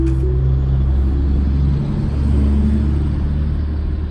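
A Tesla running FSD Beta accelerates to pass a slow rock truck on the road, giving a steady, loud low engine-and-road rumble heard from inside the cabin throughout, with no talking.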